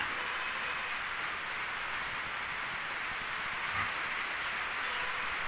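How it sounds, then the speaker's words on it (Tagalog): Heavy typhoon rain pours down at a pig farm, a dense, steady hiss of downpour drumming on surfaces without pause, filling the whole stretch at an even level with no voices. "grabing maulan o"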